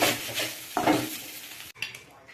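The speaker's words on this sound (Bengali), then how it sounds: "ধনে পাতা দিয়েছি দিয়ে একটু নাড়াচাড়া করে দিলাম" A spoon stirs vegetarian sabudana pulao with coriander leaves in a pan, with soft sizzling and scraping strokes that stop briefly before resuming, close up and with no talking.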